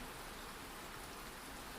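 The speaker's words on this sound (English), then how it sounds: "the rain continues to fall, softly, slowly" Soft rain falls on a quiet hilltop, a faint, even hiss of drops that stays low and constant throughout, with no voices present.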